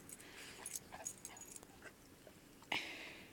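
A dog whimpers outdoors in deep snow during a 2016 blizzard, with faint, brief whines and yips scattered over a quiet background, ending in one sharper, louder burst.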